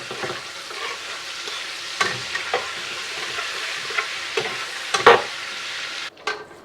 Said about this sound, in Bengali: এটা একটু রোস্ট করব, আর একটু ভাজাভুজি হবে, সেই জন্য একটু বাটার দিয়ে দিচ্ছি যাতে পেঁয়াজটা ক্রিস্পি থাকে